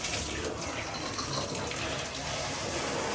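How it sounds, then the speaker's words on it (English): Hotel bathtub shower running full force, a steady dense hiss of spraying water that stays loud and constant throughout with no pauses. "that's the shower."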